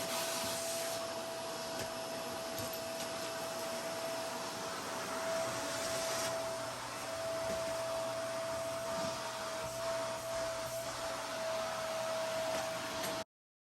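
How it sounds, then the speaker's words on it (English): A household vacuum cleaner with a temporarily repaired split hose runs continuously at close range, a loud steady roar with a constant whine that cuts off abruptly at the end. "I also wanted to leave in this little clip of the actual vacuum sounds for you as well"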